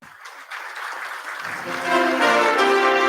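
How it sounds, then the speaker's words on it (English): Audience applause at a fire services event of the Pimpri Chinchwad Municipal Corporation, clapping that builds and grows louder, with faint voices mixed in toward the end. "Can we have a round of applause for Rutuja"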